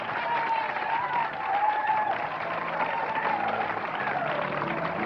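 Studio audience applause welcoming a singer as a guest on a 1990 Boston interview show, a steady, dense clapping that holds evenly for several seconds with no talk over it.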